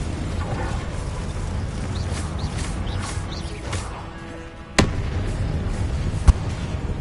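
Spells such as Glacius, Incendio and Confringo cast in the Hogwarts Legacy video game give a continuous rumble of magical bursts and crackles, with two sharp, loud explosive cracks near the end.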